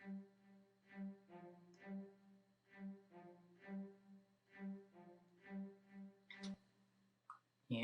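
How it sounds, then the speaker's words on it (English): Cello spiccato from a free cinematic sample library, a steady series of about nine short, evenly spaced bowed notes, close and clean, with a brief extra flourish near the end. "The other ones are the kind of cello spizzicato, and this is what it sounds like."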